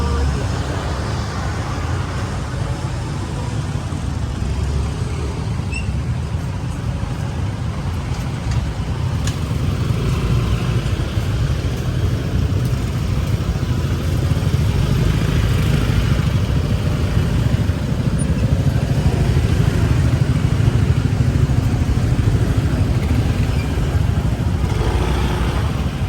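Continuous street traffic near a public market under rehabilitation in Mandurriao, with cars and motorcycles rumbling past steadily and close by for a long stretch, a faint voice now and then under the noise.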